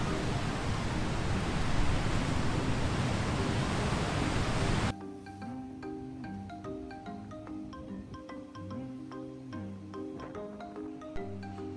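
Wild ocean waves break on the north coast of Gran Canaria, a dense, loud roar of surf for about five seconds before it cuts to music.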